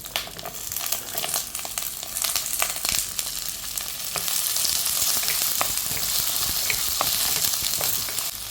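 Chopped shallots, green chillies, ginger and garlic fry in hot oil for a prawn curry, making a loud, continuous sizzle that swells as they are stirred, with faint scraping in the pan.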